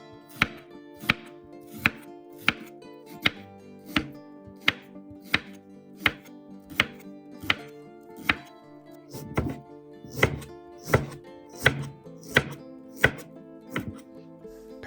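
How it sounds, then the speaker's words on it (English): Steady knife chops through ginger on a cutting board, about twenty sharp thuds at a brisk, fairly regular pace, close up with no talking. "I cut the ginger into small pieces like this so it's easier for the blender to blend."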